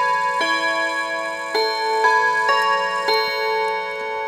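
A Westminster hat clock strikes the half hour, a short run of ringing chime notes with long sustaining decay, close and fairly soft, heard alone in a quiet room.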